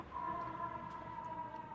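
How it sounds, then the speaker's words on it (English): An ambulance siren passes outside a window, a faint, steady wailing tone heard from a distance through the room, with no talk over it. "there's an ambulance going by outside of my window"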